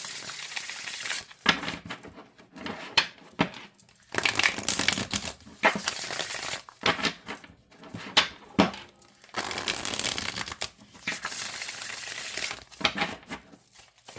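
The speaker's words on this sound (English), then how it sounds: "I'm not having an issue shuffling this." Tarot cards shuffled by hand in bursts of crisp riffling and shuffling, close and fairly loud, with brief pauses between bursts and no talking.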